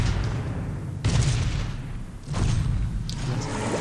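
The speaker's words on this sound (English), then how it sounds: "What's that battleship? Okay, let's bombard it." Naval bombardment from a battleship in the strategy game Civilization: Call to Power II, heard as a few heavy booming blasts and rumbling impacts at roughly one-second intervals, loud and close, with no talk.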